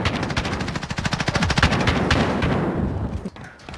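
Rapid automatic gunfire from Call of Duty Warzone bursts loud and close in a fast rhythmic volley, thinning out toward the end.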